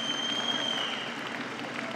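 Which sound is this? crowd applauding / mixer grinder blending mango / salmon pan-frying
crowd applauding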